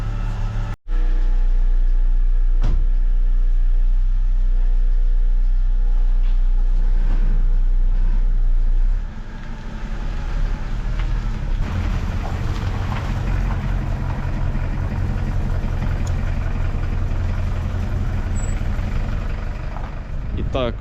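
A Chevrolet Lacetti engine idles while warming up, a steady low drone that thickens and grows rougher partway through, heard close with a person talking over it.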